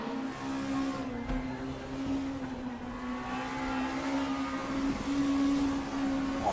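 A VW Scirocco race car engine drones steadily in the RaceRoom racing game at Hockenheim, holding a sustained, slightly wavering tone throughout.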